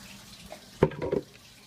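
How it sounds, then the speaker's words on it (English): Hot water poured into a Blendtec blender jar while cleaning it, a short splashing pour lasting under half a second, close but fairly quiet against a faint background. "So my water should be nice and hot now, so I'm going to put some of that in"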